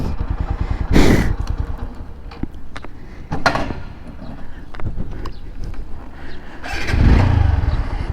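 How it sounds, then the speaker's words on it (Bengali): A motorcycle engine runs steadily while the bike is ridden, with a low, rumbling drone throughout and louder surges near the start and end. No one speaks. "তো একটু বাইক চালাইতে চালাইতে কিছু কথা বলি"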